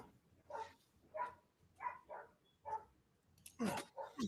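Dogs bark in a steady series of five or six spaced, moderately distant barks, ending in a louder, closer cluster of excited yelps.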